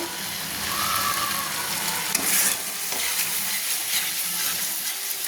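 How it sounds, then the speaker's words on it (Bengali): Spice masala frying in oil in a pan for an egg kosha curry, a steady loud sizzle with stirring scrapes running continuously throughout. "তো আমার মশলাটা কষানো হয়ে যাচ্ছে, তেল ছাড়ছে"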